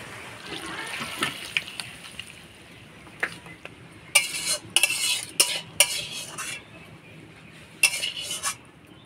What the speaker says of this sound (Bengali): এবার গরম মশলা দিয়ে নাড়াচাড়া করে নামাই দেব।